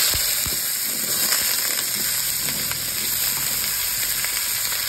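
Jackfruit sizzles loudly in hot mustard oil seasoned with mustard seeds, a dense, even frying hiss that holds steady throughout with faint scrapes and spatters beneath.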